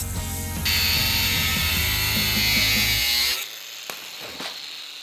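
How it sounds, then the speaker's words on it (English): A grinder scoring glass lets out a loud, harsh continuous whine for about three seconds, then cuts off abruptly, leaving a few faint clatters and rustles. "I got the brilliant idea let's score it with a grinder"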